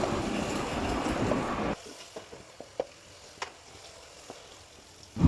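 Onions and ginger garlic paste fry in oil in a kadai, starting with a loud sizzle that drops to a quieter crackle with scattered stirring clicks and scrapes, then swells briefly at the end.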